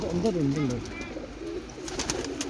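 Large flock of about 500 pigeons cooing at a breeder's loft, overlapping low coos at the start, then a voice talking over scattered bird sounds and clicks.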